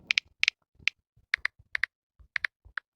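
Keystrokes on a computer keyboard as a chat command is typed, arriving in short bursts of sharp, close clicks with brief pauses between groups, heard alone without speech.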